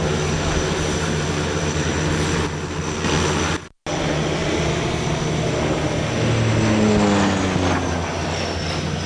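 An Antonov An-26 twin-turboprop airplane flies during a Sea Breeze 2016 military exercise, its steady loud engine drone and propeller hum filling the scene with no talk, a brief dropout midway and a rising tone toward the end.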